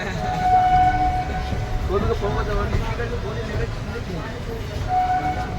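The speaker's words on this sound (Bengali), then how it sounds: "ট্রেন এবার ধীরে ধীরে মেন লাইনে এন্টার করছে" A Katwa–Nimtita passenger train rumbles along the tracks close by as it slowly enters the main line, its steady rolling noise mixed with clanks, a brief horn-like tone and people talking.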